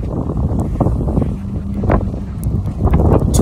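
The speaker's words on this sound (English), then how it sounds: "It's so windy out here" Strong wind buffets the microphone outdoors beside a blue car with alloy wheels, a loud continuous rumbling roar with gusty surges and no clear speech.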